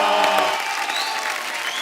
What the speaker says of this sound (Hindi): आप सबकी जोरदार तालियों के बीच please welcome mister Sudesh Bhosle साहब।